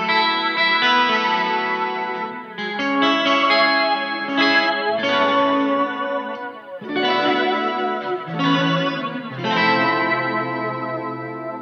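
Fender Jazzmaster Vintera electric guitar through a whammy pedal on its octave setting, with chorus and distortion adding shimmer, playing a series of sustained melodic phrases that swell and fade, loud and close.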